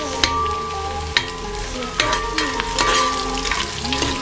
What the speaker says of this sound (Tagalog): Medyo iba-brown lang natin yung ating luya para lumabas yung aroma